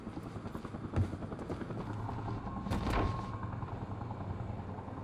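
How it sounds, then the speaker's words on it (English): Helicopter in the video game Quantum Break, a steady low rotor drone running throughout with a rising swell near the middle and mixed game noise. "Better get inside before the chopper spots me."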